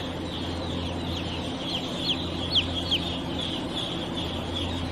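Newly hatched chicks less than a day old on a chicken farm give repeated high, thin peeps in quick scattered bursts over a low, steady background hum.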